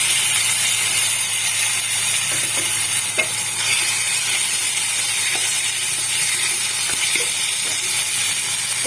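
Spice tempering fries in oil in a pan for a Bengali lentil-fritter curry, giving a steady, loud, continuous sizzle with a few faint clicks of stirring throughout.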